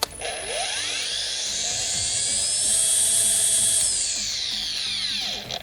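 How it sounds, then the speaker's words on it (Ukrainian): A Grand ATG-21 cordless battery string trimmer spun up with its line, giving a high whine that rises in pitch through a soft start, holds steady at speed, then winds back down, loud and close. "вмикаємо тример, вмикаємо ліску і пробуємо"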